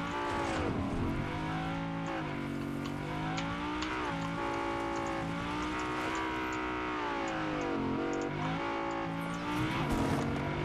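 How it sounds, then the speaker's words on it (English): Car engine in the Fortnite video game revving and droning continuously with shifting pitch as it drifts, tires squealing in sweeping glides over about ten steady, close, loud seconds. "I almost crashed the car over here doing little drifts"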